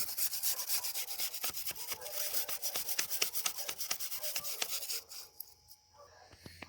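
Small screwdrivers scrape and rub as new weather-stripping is tucked and curled into the targa top channel of a Corvette, a close, rhythmic series of scratchy strokes that stops near the end.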